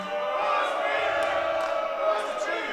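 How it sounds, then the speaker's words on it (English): A crowd at a live wrestling show chants in unison for Busch Beer, a steady, dense roar of many voices that swells slightly without letup. "The crowd chanting for Busch Beer."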